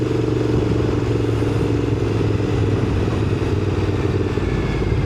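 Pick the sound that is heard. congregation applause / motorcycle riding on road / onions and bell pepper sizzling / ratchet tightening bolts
motorcycle riding on road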